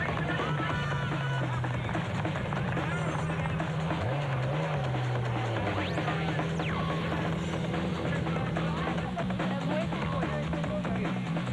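A Nissan Hardbody production-class racing truck drives in the Sugarbelt 400 off-road race, its engine a steady loud drone with shifting pitch and rough road noise throughout, heard close and continuous with no break.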